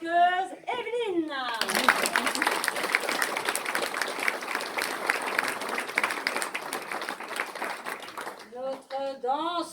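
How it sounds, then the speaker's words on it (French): Short speech from an emcee gives way to a burst of audience clapping for a rock-and-roll dancer at an amateur dance show, lasting several seconds before the host speaks again. "Applaudissez notre rockeuse Evelyne."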